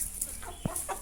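A Giriraja chicken clucks nearby in a few short, close notes, one sharper cluck standing out among softer ones over a faint farmyard background.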